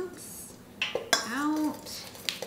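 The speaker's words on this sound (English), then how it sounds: "We're gonna give that a stir." A spoon stirs pepper into cheese in a bowl, giving a few light clinks and scrapes against the bowl while a person talks over them.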